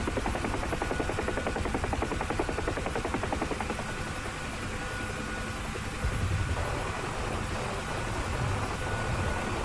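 A UH-1H Huey helicopter in the combat flight game DCS runs steadily with a continuous rotor and turbine drone, a broad, loud wash of noise that carries through the whole stretch with no voices.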